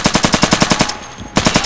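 Rapid automatic gunfire from a weapon in the shooter game Insurgency: a loud, close burst of evenly spaced shots, a brief pause, then the burst resumes, with no talking.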